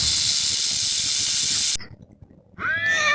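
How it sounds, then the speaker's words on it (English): A snake hisses in a loud, steady, continuous rush of breathy noise for nearly two seconds, stopping abruptly, followed by a short silence and then a different tonal animal call. "snake"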